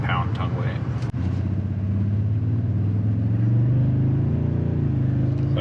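A 2024 Toyota Tundra TRD Pro hybrid pickup accelerates while towing a trailer, its engine drone rising steadily in pitch and growing louder, heard from inside the cab.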